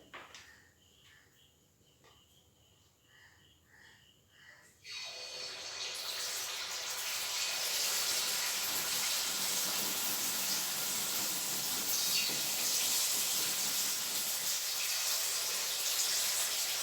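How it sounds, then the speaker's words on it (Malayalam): Unniyappam batter poured into hot oil, a quiet lead-in giving way at about five seconds to a loud, steady broadband sizzle that holds to the end without talk. "മാവ് ഒഴിച്ചു കൊടുക്കാം"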